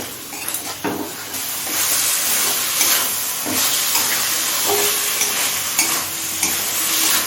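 Spice masala for chicken soybean ghugni sautés in a pan on medium flame: continuous close sizzling with repeated scraping and clinking of a spoon stirring against the metal, and no talking.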